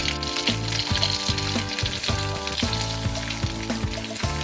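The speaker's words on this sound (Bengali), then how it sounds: "আবার আমি আরেকবার ভেজে নেব চিকেনগুলোকে।" Chicken pieces for chili chicken frying a second time in hot oil, a steady dense sizzle with rhythmic bursts roughly every half second, as if pieces are being turned or stirred, close and fairly loud with no talking.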